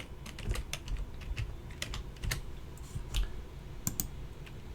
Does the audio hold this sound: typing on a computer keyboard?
yes